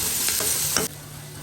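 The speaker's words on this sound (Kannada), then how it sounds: "ಇದನ್ನ ಫ್ರೈ ಮಾಡಿ ಟೊಮೊಟೊ ಹಾಕ್ಕೊಳ್ಳಿ." Tomato frying in a pan for paneer curry, a steady broadband sizzle with a couple of stirring scrapes, cutting off abruptly near the end to quieter background.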